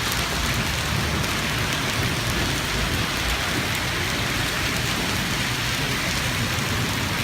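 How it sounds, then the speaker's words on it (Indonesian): Heavy rain pours steadily in Mecca, a dense unbroken hiss of drops drumming on surfaces, loud and even from start to finish with no voices. "Berkah banget hujan."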